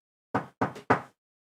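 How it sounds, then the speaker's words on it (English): Three firm knocks on an apartment door, close and distinct, the second a quick double rap, with silence before and after. "You arrive at the designated apartment and knock on the door."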